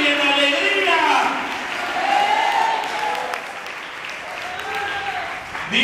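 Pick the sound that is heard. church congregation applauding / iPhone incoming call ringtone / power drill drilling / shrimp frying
church congregation applauding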